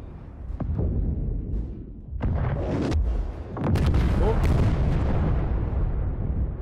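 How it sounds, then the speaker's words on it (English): Deep rumbling booms and bursts of explosions in quick succession from Halo Infinite co-op campaign gameplay, loud and layered, with a voice murmuring faintly underneath. "How many explosions do you want?"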